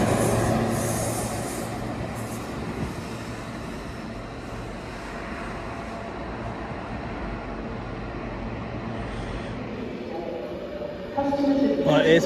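A nine-carriage train rumbles along a station platform, its wheels and carriages rolling steadily, with faint voices around and some louder noise near the end.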